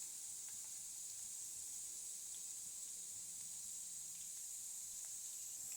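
Slices of bitter gourd (kakarakaya) fry in oil until light brown, giving a faint, steady, even hiss with occasional tiny pops and no voices.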